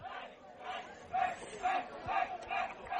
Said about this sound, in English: Falcons doing their cheer.